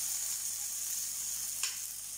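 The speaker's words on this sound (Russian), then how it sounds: "И выкладываю массу на разогретую сковороду." Steady sizzling of cheese pancake (syrniki) batter frying in a heated pan, a constant close hiss with one brief louder crackle near the end.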